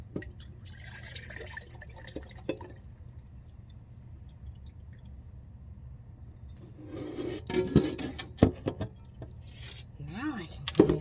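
Oxymel being decanted at a home counter: a quiet stretch gives way to liquid pouring and dripping, with close clinks of glass or utensils and irregular splashes toward the end.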